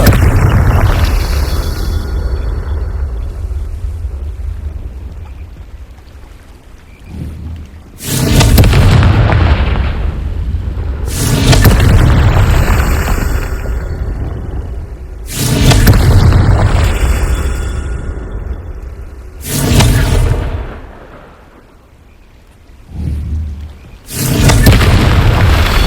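Confringo blasting-spell explosions in the Hogwarts Legacy video game: a series of about five loud, deep booms at irregular intervals, each a heavy burst with a rumbling tail that fades before the next one hits.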